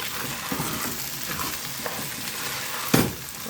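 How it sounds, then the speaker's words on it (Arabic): Okra and meat stirred in a pot for a tagine, a soft scraping, sizzling stir with a sharper clatter near the end, no voices. "هاخد بقى تقليبه تانيه كده"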